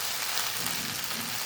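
Chicken chowmein with a coriander sauce sizzles steadily in a hot pan while being stirred, giving a close, dense frying crackle that cuts off abruptly.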